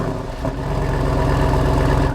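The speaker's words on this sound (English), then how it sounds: "I want to know that it's an actual engine making that sound" An internal-combustion car engine, likely a Ram V8, runs close and loud with a deep, throbbing idle that swells slightly as if being revved.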